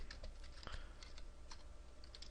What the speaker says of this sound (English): if I started typing here